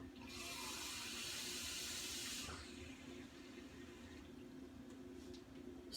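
Water runs into a dish while making a candy cake, a loud bright splashing gush that stops after about two seconds and leaves a quieter low background hum.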